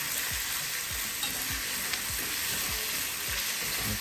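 Jamaican pumpkin dumplings fry in hot oil on a stove with a steady, close sizzle, while repeated stirring or scraping strokes recur roughly every half second, with no talk.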